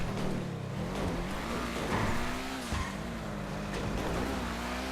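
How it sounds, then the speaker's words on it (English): The Pfister Comet Retro Custom in a racing video game, driven off-road over bumps, has a rattling, strained engine that drones steadily with shifting pitch under rough bumping and knocking noises. "the engine's definitely rattling even worse now"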